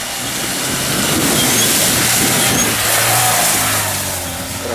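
Car engine revving hard and steadily as it pulls away through mud on the way back from a treasure-hunting expedition, a loud sustained roar that swells and eases over several seconds with no talk.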